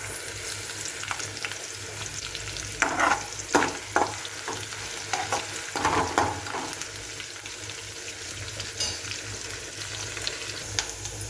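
Curry leaves frying in hot oil for a kansar kaya curry, a steady sizzle with scattered spoon scrapes and stirring knocks across the pan, no talk.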